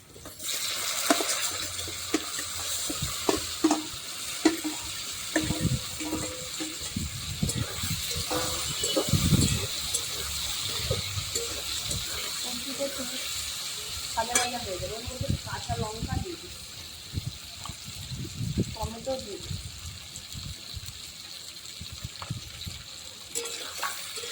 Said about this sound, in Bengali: সবজিটা একটু ভাজা ভাজা হওয়ার জন্য ওই তেলের মধ্যেও আমি দিয়ে দিচ্ছি